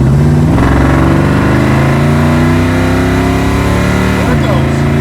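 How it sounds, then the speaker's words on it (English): Tires spin as a car with a Holley carburetor and tuned vacuum secondaries accelerates hard. The engine pitch rises loud and near, with a brief dip near the end and talk mixed in. "Oh, can't keep the tires from spinning."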